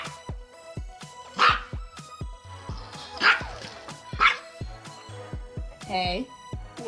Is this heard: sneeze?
no